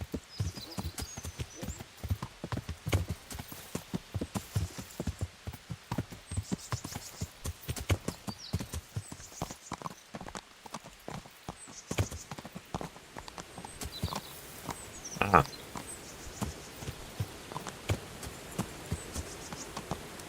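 Horse hooves clip-clop in a rhythmic, steady gait while riding through trees in the medieval game Kingdom Come: Deliverance, fairly close and continuous for the whole stretch, with little talk over it.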